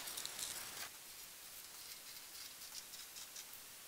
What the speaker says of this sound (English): we need to cut off this bottom hem where you see stitching. So again, make sure it's lined up and just cut that right off